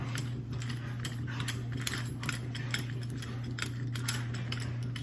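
A Kryptonite trail wheel bearing press is unscrewed by hand, giving a quiet run of ticking, ratchet-like clicks over a low steady hum, close but faint, with no speech.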